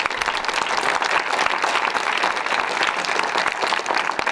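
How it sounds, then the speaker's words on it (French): Steady, dense applause from a crowd at a ski resort gathering fills the whole stretch, even in loudness and without pause. "J'aimerais qu'on l'applaudisse."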